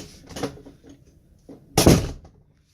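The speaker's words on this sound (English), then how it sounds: "I'm going to simulate entering the room by opening and closing the door." Room door opened and then shut, heard as a handle rattle and a soft swing, a short pause, and a louder closing thump, close by and with no talk.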